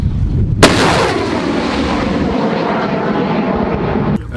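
A Grad multiple rocket launcher fires near Bakhmut with a sharp close blast that opens into a sustained roaring whoosh of rockets leaving, loud and continuous for several seconds.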